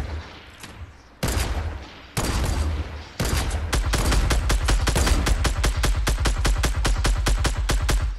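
Gunfire in the Fortnite video game: a few separate loud shots, then a long sustained rapid burst of automatic fire, close and dominant with no talk over it.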